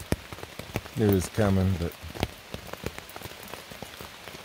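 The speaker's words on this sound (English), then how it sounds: "Woke up to the rain." Steady rain patters on a tent through a rainy morning outdoors, a constant close drumming of drops on fabric, while a person speaks briefly over it.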